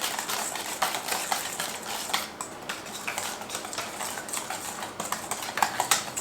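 Coleslaw stirred in a bowl, with quiet repeated clinks and scrapes of a utensil against the dish in an irregular rhythm, close up and soft, with no talking.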